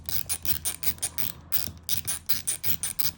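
A Craftsman Speed Drive ratcheting screwdriver works a wood screw loose, giving close, crisp bursts of rapid pawl clicks in quick repeated strokes, with a brief pause in the middle.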